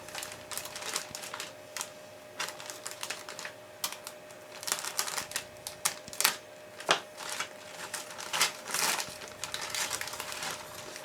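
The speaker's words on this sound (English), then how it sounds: "I'm gonna tear this out of the bag and we're gonna look at it." Plastic packaging crackles and rips in an irregular run of sharp, close crinkles and rustles for about eleven seconds as a car interior tub for a 1970 Plymouth Cuda is pulled out of its bag, with no talking.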